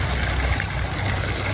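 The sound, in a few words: water flowing from a sulfur-smelling spring source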